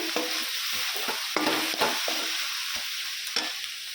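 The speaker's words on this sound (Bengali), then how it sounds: "নারকেলের পুরটা হয়ে আসছে, নামাই দিচ্ছি।" Coconut filling for pitha being cooked in a pan: repeated scraping and knocking strokes of a spoon stirring the mixture over a continuous soft sizzle, close and unhurried, with no talk.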